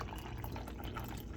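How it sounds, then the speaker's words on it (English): Toasted hazelnut coffee, brewed in a Keurig, pours into a thermal insulated cup with a brief, soft continuous trickle and splash, close and quiet with no talking. "So now we go ahead and pour our coffee into the cup right here."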